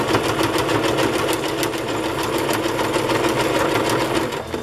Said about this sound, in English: I'll just sew these down to the top here.